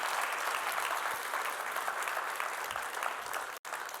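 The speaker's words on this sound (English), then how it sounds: "this is where you give us a big round of applause again" A large audience at an international financial markets conference claps in a dense, sustained round of applause, loud and even from start to finish with a brief dip near the end.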